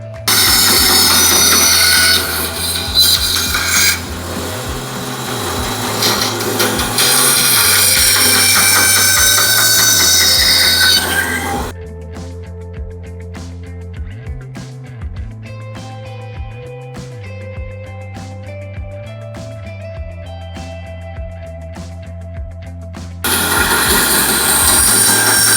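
A saw cuts wooden pieces out of a board. Loud, close buzzing cuts run for about twelve seconds, followed by a quieter stretch of clicks and taps, and then the harsh cutting starts again near the end.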